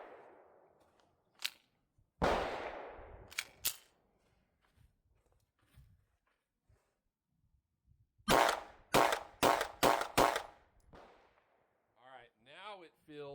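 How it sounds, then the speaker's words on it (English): Canik TTI pistol with three inline ports firing MagTech 115-grain rounds: a couple of sharp, loud single shots early, then a quick string of five or six cracks, with quiet gaps and faint clatter between. "this is going to be the first shots with it, with these inline ports"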